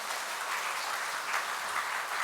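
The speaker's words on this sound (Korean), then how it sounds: "우리 박수 한번 쳐야 되겠죠?" A church congregation at an Easter Sunday Mass applauding together, a steady, even wash of many hands clapping at moderate distance, with no talk over it.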